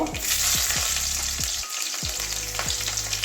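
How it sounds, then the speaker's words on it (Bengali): Chopped onion hits hot oil seasoned with black cumin, hissing loudly and continuously up close while a spoon knocks and stirs in a steady rhythm, with no voices. "তেল গরম হয়ে গেছে ফোড়নে কালো জিরে ফার্স্ট কালো জিরে দিয়ে দেব এবারে পেঁয়াজ কুচি দিয়ে দেব"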